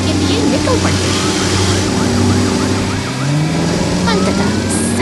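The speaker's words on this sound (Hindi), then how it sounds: "सायरन की गूंज शांत वातावरण को चीरती हुई सुनाई देती है" Emergency vehicle siren wailing as an ambulance and fire crew set out on a rescue from a fire station, a steady rising-and-falling tone sustained throughout over a continuous loud engine and traffic rumble.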